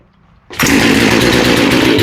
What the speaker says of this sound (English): Then we're giving it a touch more gas, and then revving it.